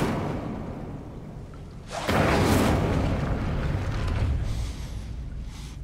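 An Incendio fire spell cast in Hogwarts Legacy bursts in about two seconds in as a sudden loud roaring whoosh of flame, holding as a broad rushing blaze before easing off slightly.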